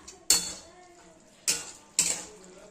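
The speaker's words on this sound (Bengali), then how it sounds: "খুব ভালো করে এই মশলার সঙ্গে মটরটা কিন্তু নাড়াচাড়া করে নেব" A spoon stirs peas with spices in a pot for ghugni, striking the metal three times in sharp clanks with short ringing tails and quiet scraping between them.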